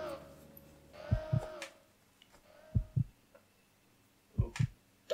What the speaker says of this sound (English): the heartbeat